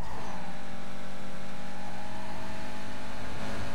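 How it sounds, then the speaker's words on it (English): Lamborghini Murcielago in Need for Speed Carbon, its engine droning loud and steady with a sustained high rev and no gear changes, racing alongside other cars. "Here comes the Murcielago right next to me."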